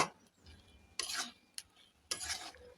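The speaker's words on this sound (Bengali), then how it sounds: "ভালো করে নাড়তে হবে নিচে যেন লেগে না যায়" Stirring thick pickle with fried spices in a pan, a few separate bursts of scraping and light sizzle between quieter pauses, close and moderately loud.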